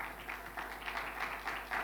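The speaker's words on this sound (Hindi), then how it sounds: "आए जोरदार तालियां बजाएंगे," A church congregation at a Christmas-season service claps together in steady, crowded applause that stays fairly even throughout, with no voices on top.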